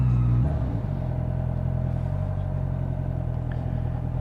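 Honda CBF 650 motorcycle engine while riding, a steady loud drone that drops slightly as the throttle rolls back, close up with constant wind and road rumble, no talking.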